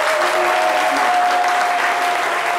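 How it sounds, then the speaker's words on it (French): A studio audience applauds a couple, with dense, steady clapping that is loud and continuous throughout, with no pauses. "On les applaudit bien fort."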